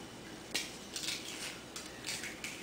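A metal spoon scrapes out the inside of a barbecued pepper in a handful of short, quiet clinks and scratches with brief gaps between them.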